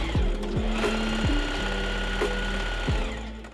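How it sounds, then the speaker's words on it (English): A sewing machine stitches the sleeve side seam of a cocktail dress, with a fast steady motor whir and rhythmic needle chatter up close, speed shifting slightly throughout with no talking. "pinning them down the side seam and then sewing that side seam down"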